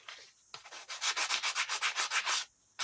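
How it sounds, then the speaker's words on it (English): Sanding a part on a silver bicycle during restoration: a steady run of about a dozen rhythmic back-and-forth rubbing strokes, close and fairly loud, with short quiet stretches before and after. "now we'll sand that up. Like I should have done earlier."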